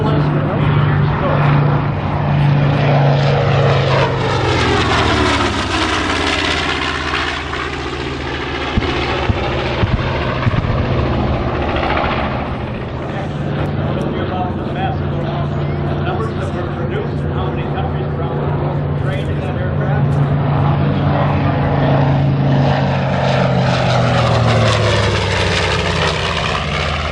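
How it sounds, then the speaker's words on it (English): A twin-engine propeller aircraft, a WWII-era medium bomber, flies past at an air show with a steady, loud droning engine hum that rises and falls in pitch as it passes, while a commentator talks over it. "P-25 twin-engine aircraft was a medium-range aircraft."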